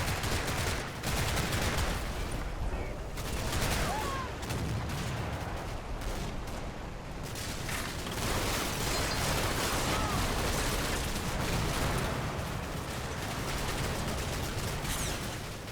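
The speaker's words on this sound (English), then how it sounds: "The scouts in the barn are gunned down by tank machine gun fire" Tank machine-gun fire in the Combat Mission World War II strategy game, repeated bursts of automatic gunfire with distant shots and battle noise rolling on continuously at moderate distance.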